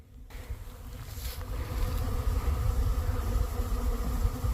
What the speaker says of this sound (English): So that's just a glob of bees on that tree there.